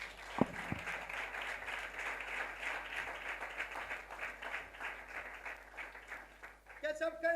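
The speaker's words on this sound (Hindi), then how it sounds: "अपने लिए तालियां बजाओ।" A congregation at a church sermon claps together for several seconds, a steady wash of applause that fades near the end before a voice begins speaking.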